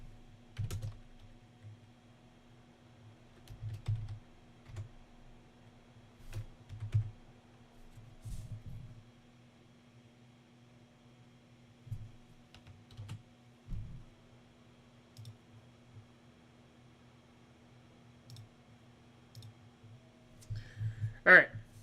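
Bursts of typing on a computer keyboard, clustered key clicks coming in irregular runs with pauses between them, close and fairly quiet over a steady low hum, with one sharper louder burst near the end.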